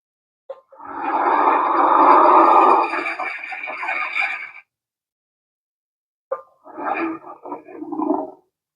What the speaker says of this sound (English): I'm guessing these are Ghostbusters 2 sound effects.